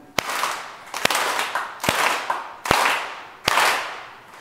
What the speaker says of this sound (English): We're just going to briefly clap together in unison about once per second, just 5 times.